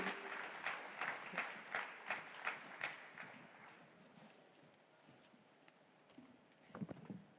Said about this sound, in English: a big round of applause for Gautam Gambhir